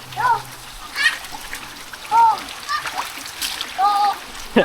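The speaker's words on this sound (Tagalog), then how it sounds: "Huwag mo laruin yung tubig natin." Water splashes in short bursts, several separate splashes close by, with a voice and other talk mixed in.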